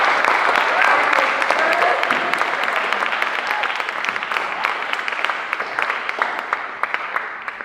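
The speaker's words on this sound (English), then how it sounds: "A round of applause for our supervising principal." Audience at a school pinning ceremony applauds its supervising principal, dense clapping from many hands that thins slightly as it goes on, with a few sharper individual claps near the end.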